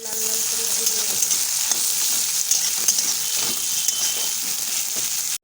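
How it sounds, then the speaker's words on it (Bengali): Chopped onions fry in oil over a whole cumin and dried chilli tempering, a loud, constant sizzle with faint scraping stir clicks now and then, and no talking. "এবারে পেঁয়াজ কুচি দেবো। লাল লাল করে ভেজে নেব।"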